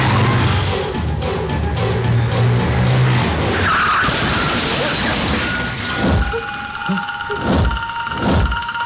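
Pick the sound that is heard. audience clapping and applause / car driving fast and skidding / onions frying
car driving fast and skidding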